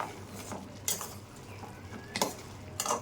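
Khurma being stirred in sugar syrup in a pan, a few soft scrapes and utensil clinks against the metal, faint and sparse over quiet background.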